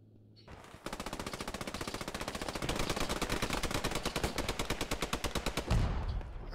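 Sustained rapid automatic gunfire in the World War II shooter Post Scriptum, a dense fast burst of many shots rattling continuously for several seconds, loud and close.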